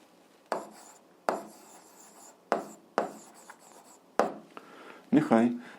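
Writing while working an eighth-grade algebra problem produces a series of short scratchy strokes at irregular intervals, close by, while a voice talks through the solution.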